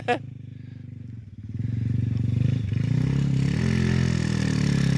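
Honda XRM 125 motorcycle climbing uphill on a mountain trail, engine laboring steadily and rising in load, close and continuous with a brief clatter at the start.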